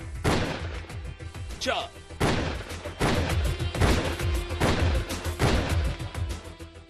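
Gunshots are fired at an accused held in police custody outside a court in Hapur. About six loud, heavy blasts ring out at uneven intervals, each echoing, while a voice counts along.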